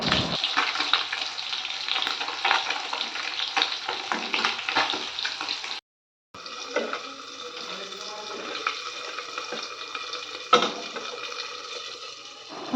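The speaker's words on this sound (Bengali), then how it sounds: "তো চলুন আমি মাছটা ভাজতে থাকি" Fish rubbed with salt and turmeric fries in hot oil, a loud steady crackling sizzle close by, cut off by a short gap midway and then resuming more softly with an occasional sharp pop.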